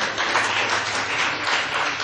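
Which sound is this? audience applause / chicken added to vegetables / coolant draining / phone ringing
audience applause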